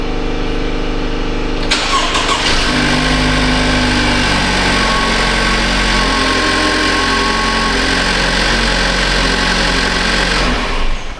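A freshly replaced 2.5-litre GDI engine in a Cadillac ATS cranks and catches quickly, then settles into a loud, steady idle that runs on without interruption.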